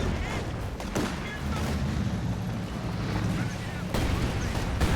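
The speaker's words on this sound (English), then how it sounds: "he instead goes for the satchel on the MG" Satchel charge blast on a machine gun nest in a World War II tank game, a dense booming rumble with thuds and steady battle noise throughout, and a heavier hit near the end.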